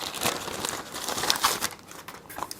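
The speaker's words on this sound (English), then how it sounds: "let's open this package first. I'll just use my utility knife here" A knife package being slit open with a utility knife: crinkly plastic crackles and tears in quick, close, irregular bursts of moderate loudness, with no one speaking.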